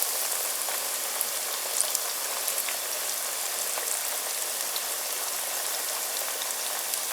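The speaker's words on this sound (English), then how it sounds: "while these are frying" Breaded eggplant slices sizzle steadily in a pan of hot oil, a dense, even crackle and spatter with small pops scattered throughout, close and continuous with no voices.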